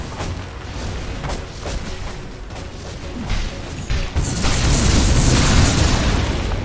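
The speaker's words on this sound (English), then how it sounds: "Radiant's top tower has fallen." Loud booming explosions and crumbling as Radiant's top tower is destroyed in Dota 2, starting with scattered impacts and swelling into a dense, sustained roar of destruction near the end.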